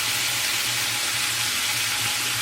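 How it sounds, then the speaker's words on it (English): Asparagus sautés in a hot pan with a steady, dense sizzle that stays loud and close throughout, with no voices over it. "now I want it to saute a little bit"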